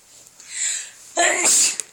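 A baby girl sneezes once, a short sharp burst up close, preceded by a softer breathy intake; an adult is nearby.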